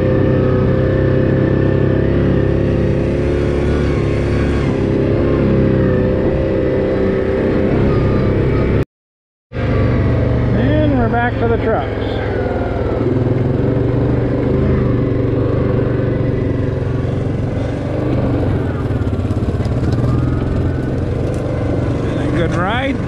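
Honda Talon and Can-Am Maverick UTVs driving a rough, dusty trail, a loud continuous engine drone that rises and falls with throttle, with a brief dropout partway and someone talking over it.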